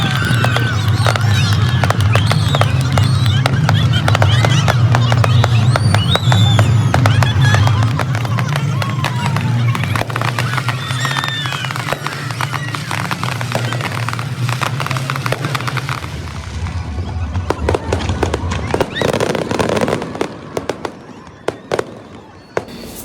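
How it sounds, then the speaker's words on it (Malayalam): Eid fireworks display in Qatar booming continuously and loudly for about sixteen seconds amid a large outdoor crowd, then the blasts thin out into scattered pops over crowd murmur and chatter. "ഈദായതുകൊണ്ട് തന്നെ ഇന്നിവിടെ ഫയർ വർക്ക്സ് നടക്കുന്നുണ്ട്"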